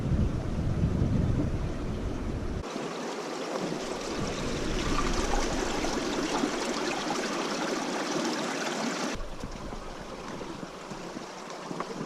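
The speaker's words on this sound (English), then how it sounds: "Under all these rocks is glacier melt, it sounds amazing." Glacier meltwater rushes beneath a field of rocks on a high Scandinavian mountain, a steady, loud, broadband roar that continues without a break, with no voices over it.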